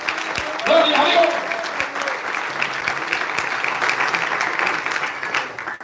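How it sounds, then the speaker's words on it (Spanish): Church congregation applauding during a sermon, a steady wash of clapping mixed with voices and shouts, loud at first and then holding at a moderate level throughout. "Si va a aplaudir, hágalo bien."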